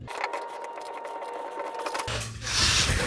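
A ratchet wrench works on the fuel tank of a 2014-2019 Chevrolet Silverado, giving a close, rapid scratchy clicking for about two seconds before a louder rushing scrape takes over.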